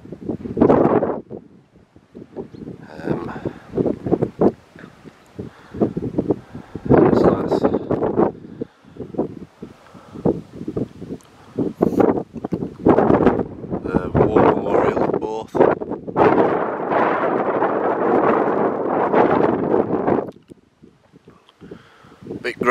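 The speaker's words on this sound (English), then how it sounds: "Bit grey and windy." Gusty coastal wind at Borth, Wales, buffets the microphone in loud, uneven rushes that nearly drown everything, easing only briefly near the end.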